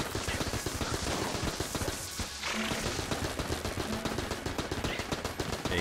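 An AK rifle fires in the Enter the Gungeon video game as loud, dense, rapid bursts that run almost continuously, with one brief lull partway through.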